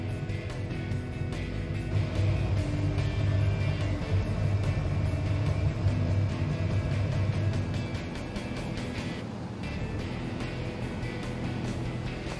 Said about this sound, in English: The chicks arrive in a large lorry.